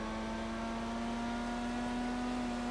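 The Pegassi 811 supercar engine in GTA V (FiveM) holds a steady high hum, close and constant with no clear rise or fall, alone with no talk.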